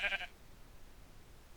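A single short sheep bleat from the Minecraft video game sounds at the very start, fairly faint, then fades into quiet background hiss.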